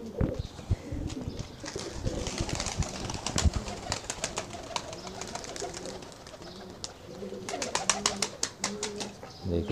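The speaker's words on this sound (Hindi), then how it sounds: "देखिए दोस्तों कबूतर अब सारे अपनी अपनी जगह पे भागे जा रहे हैं" Pigeons cooing and rustling in a loft as they scurry back to their perches after feeding on millet, with soft repeated coos, sharp flicks and wing flutters close by, a busy cluster of sounds that thins midway and then picks up again.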